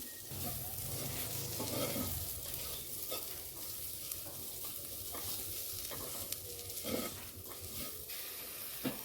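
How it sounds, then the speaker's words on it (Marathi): Chopped tomato sizzles and crackles as it is sautéed with turmeric in a pan for a cluster beans sabji, with steady close frying and intermittent spatula stirring clacks. "आता आपण टमॅटो घालूया बघा एक टमॅटो चिरून ठेवला तो घालूया टमॅटो पण परतून घेऊया"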